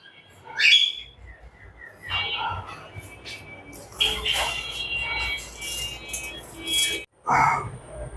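Caged budgerigars, including a golden pair, give scattered sharp chirps and whistly tweets in short bursts, under and between a person speaking nearby.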